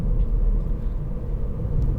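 A 2018 Ford Fiesta ST-Line X with a 1.0 EcoBoost three-cylinder engine runs with a steady low rumble heard from inside the car, continuous and fairly loud.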